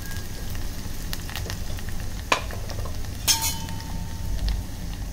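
Ground spice paste for a Malvani surmai fish chutney being stirred and sautéed in oil, with scraping stirs and two sharp utensil clinks over a low steady sizzle, close up and without talk.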